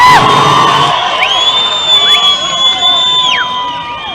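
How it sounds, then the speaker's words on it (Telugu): A large crowd at a political road show rally cheers loudly, with shrill rising whistles over a dense, continuous roar that stays strong throughout. "గట్టిగా చప్పట్లు కొట్టండి"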